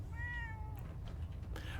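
A cat meowing in a video game, one clear drawn-out meow followed by a shorter faint chirp-like mew, over a steady low background hum.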